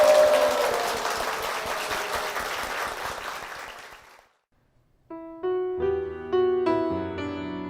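A church congregation applauds during a worship service: about four seconds of dense, steady clapping that fades out, then a short silence before music begins.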